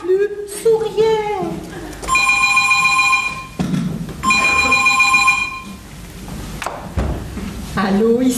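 A telephone bell rings in two loud, close bursts, with voices around it before and after the rings, and the call is then answered.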